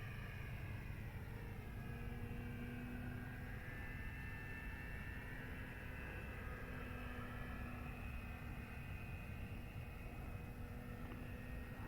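A Dynam Waco radio-controlled model biplane drones steadily in flight, its faint, even motor whine holding at a constant distance with no talk.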